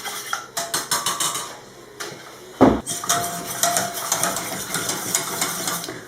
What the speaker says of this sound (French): Donc je ne vais pas arrêter de fouetter.